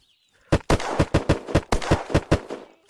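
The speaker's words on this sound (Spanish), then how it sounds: "no sé con qué me está disparando" Rapid burst of about ten sharp gunshots in quick succession in the video game Unturned, loud and close, with a brief rumbling tail after the last shot.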